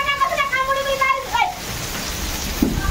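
Heavy rain pours down as a steady, dense hiss that fills the background, with a voice briefly at the start before the downpour carries on alone.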